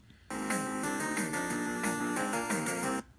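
A bright, bouncy electronic melody from a video game soundtrack with square-wave tones over a pulsing bassline, playing loudly and steadily for about three seconds before cutting off.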